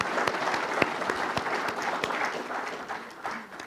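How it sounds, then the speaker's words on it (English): A round of applause from an audience at a talk on the national debt, steady and moderately distant, with no speech. "if I could ask you for a round of applause for them"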